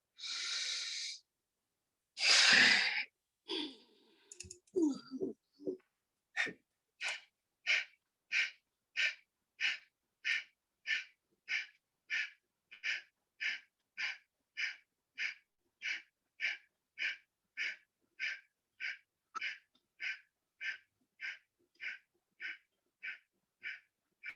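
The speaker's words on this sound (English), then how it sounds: "Go down and do Kapalbhati for 30 seconds." Kapalbhati yoga breathing: after a few deep inhales and exhales, a long run of rapid, evenly spaced forceful nasal exhalations, about one per second, close and clear with no talking.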